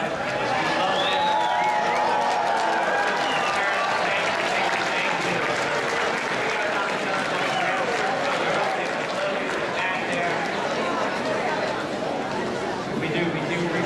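A large crowd at the Stuyvesant High School commencement claps, shouts and cheers for the graduates, a loud, unbroken roar of applause mixed with whoops and many overlapping voices lasting the full stretch.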